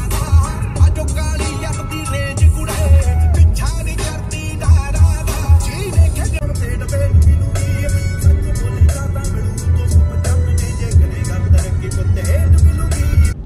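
A car speeds along the road toward the airport, its engine and tyre rumble steady and close with repeated thumps from the road, while people talk inside the car.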